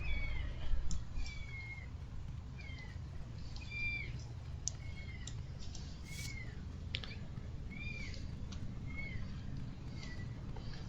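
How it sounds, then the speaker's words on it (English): Repeated high, thin kitten mews in a video game, roughly one every second, over a steady low hum of background noise. "Sounds like there's kittens out somewhere"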